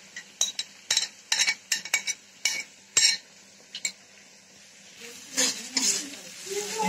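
A spoon scrapes and clinks against a pan while spiced chicken masala is stirred, a series of sharp, irregular strokes followed by a softer sizzling, shuffling stretch at the end.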